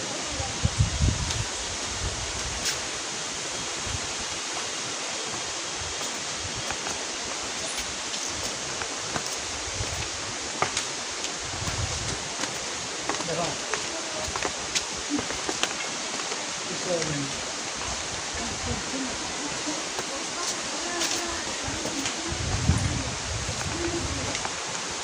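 Broadband rushing noise from the Pradhanpat waterfall in Deogarh, steady and moderately loud throughout, with faint bird calls and scattered low voices of people nearby.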